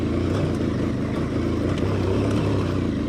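A Ducati DesertX motorcycle with stock exhaust roars with strong intake induction noise while being ridden, a loud, close, continuous engine growl with slight rises in pitch and no voices.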